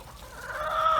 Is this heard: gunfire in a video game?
no